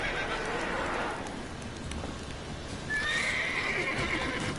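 Roach, the horse in The Witcher video game, gallops with steady hoofbeats under a constant outdoor ambience, and a loud, close neigh breaks out near the end.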